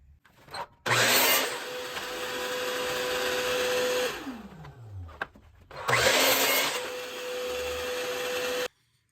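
A power saw cuts a beveled front piece of wood for a birdhouse, whining loudly as it bites through the board, then spinning down; after a short pause it starts up again for a second cut.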